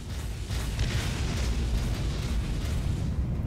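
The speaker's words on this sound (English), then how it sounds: "let's launch the torpedo" Torpedo launch and blast in the naval combat game Dreadnought, a sustained heavy rumbling roar that holds loud and dense throughout without any voices.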